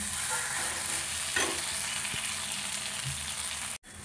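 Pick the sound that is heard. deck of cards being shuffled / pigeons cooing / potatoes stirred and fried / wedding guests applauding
potatoes stirred and fried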